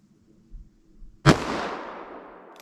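A single loud .44 Magnum shot from a 4 1/4 inch Model 69 revolver, a sharp crack after a quiet lead-in, followed by a long decaying outdoor echo.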